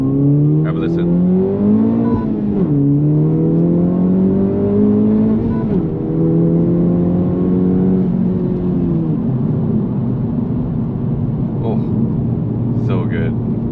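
Honda Civic Type R FL5 with aftermarket intake and exhaust, heard from inside the cabin as the engine revs through several gears, each climb in pitch followed by a quick drop at the shift, then a steady cruise, loud and close.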